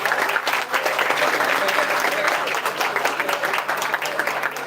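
Students at a college convocation clap steadily as a crowd, a sustained, moderately loud patter of many hands with a faint murmur beneath it.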